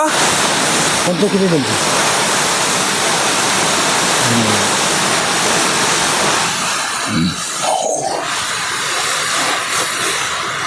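Hidden waterfall in the hills near Kuppalavalasa, a constant broadband rush of falling water filling the whole clip, loud and close, with brief voices and small sounds over it.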